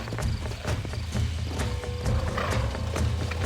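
Horse hooves clip-clop steadily up close in the Red Dead Redemption video game, a brisk rhythmic trot over a low rumbling backdrop, with a brief whinny-like note mixed in.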